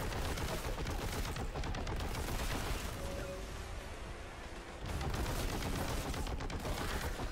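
Rapid automatic gunfire in Warhammer 40,000: Boltgun rattles loudly and continuously, easing briefly in the middle before resuming at full intensity.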